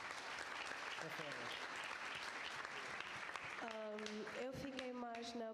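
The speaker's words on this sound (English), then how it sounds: "So a round of applause." Audience applause at a youth seminar, a steady dense wash of clapping throughout, with a few voices and a brief tonal sound rising near the end.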